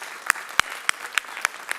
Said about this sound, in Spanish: dense un fuerte aplauso porque vencieron ese reto